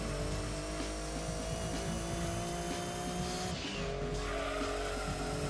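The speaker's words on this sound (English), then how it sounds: "let's see what the engine can make of the straight" Race car engine in Gran Turismo 2 drones loud and steady as it accelerates down a straight, with a brief dip and shift in pitch partway through and faint tire squeal mixed in.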